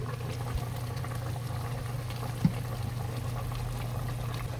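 Duck stew simmers in a covered pot, giving a steady low bubbling hum with soft liquid churn, a faint tap of the lid and one small clink, close and even throughout with no talk.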